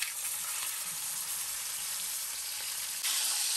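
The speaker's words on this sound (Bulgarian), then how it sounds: "Сега трябва да го запечатаме в тиган." Pork chashu searing in a frying pan coated with several spoonfuls of oil, a dense, steady sizzle and crackle filling the whole stretch, close and even, briefly shifting at the end.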